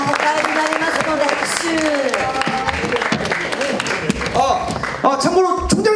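Clapping from an audience at the closing ceremony of a Korea-Japan theatre festival swells and fades over about six seconds, with a speaker's voice talking over it much of the time.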